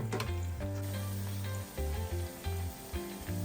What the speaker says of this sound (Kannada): ನೋಡಪ್ಪ, ಈಗ ಇದು ಚೆನ್ನಾಗಿ ಫ್ರೈ ಆಗ್ತಾ ಇದೆ.